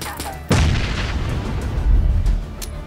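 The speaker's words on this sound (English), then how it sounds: "Hold on to it as long as possible if you want it to explode on impact." A frag grenade explodes in PUBG with a sudden heavy boom followed by a long rumbling tail, loud and close.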